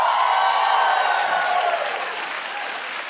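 A studio audience at a daytime talk show applauds and cheers in a steady, dense wash of clapping that stays loud and then eases slightly toward the end.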